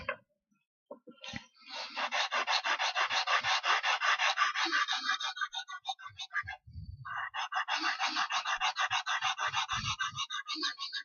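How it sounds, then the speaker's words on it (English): Close, loud back-and-forth sanding of a model house part, with fast rhythmic scratchy strokes in two long runs separated by a brief pause and a few soft knocks. "we are at the point that we have to sand again"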